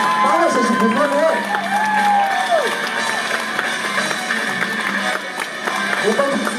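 A cosplay contest crowd cheers and shouts with some applause, a dense, lively wall of voices with whoops rising above it, fairly close and continuous.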